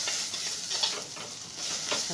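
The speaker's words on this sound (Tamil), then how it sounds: "பச்சை மிளகாய் போட்டுட்டு அடுத்த தக்காளி போட்டுக்கோங்க." Green chillies and tomatoes sizzle steadily in a hot pan while being stirred, a close, continuous frying hiss with small crackles and spatula scrapes throughout.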